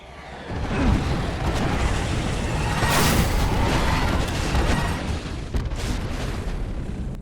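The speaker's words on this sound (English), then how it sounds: "They call in an airstrike." Airstrike bombardment in the Apex Legends video game, a sustained rumbling wash of heavy explosions rolling continuously for several seconds, loud and dense with a brief sharper burst near the end.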